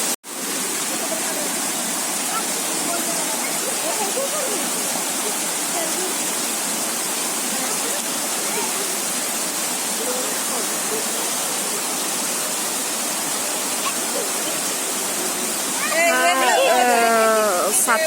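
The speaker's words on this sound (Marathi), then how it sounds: "इकडे रोडच्या बाजूला एक छोटासा धबधबा असा वाहत गेलेला आहे" Heavy rain falls on a small roadside waterfall near Ekiv village in Satara district. A steady, close, broadband rush of water runs throughout, and a voice briefly rises over it near the end.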